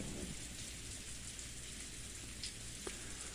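Wind and rain ambience from the visual novel Umineko, set around a rose garden: a steady, even hiss of rainfall with a couple of faint drips, and no voices.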